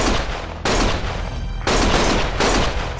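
A loud, continuous hail of gunfire from the video game Judgment comes in dense bursts with brief shifts in intensity and no talking.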